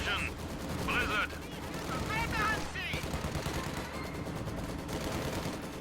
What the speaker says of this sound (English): Stuka ready to strafe enemy troops.